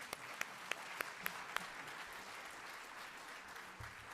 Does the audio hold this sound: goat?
no